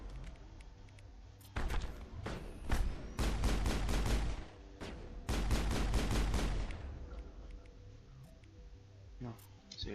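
Mass Effect 1 combat gunfire: repeated shotgun blasts and rapid weapon bursts in loud clusters, with someone talking between and over the shots.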